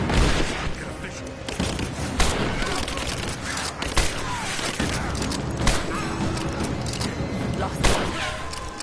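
Dense gunfire in Rise of the Tomb Raider, heavy volleys and booming thuds piling up continuously, loud and chaotic, with voices shouting over the shooting.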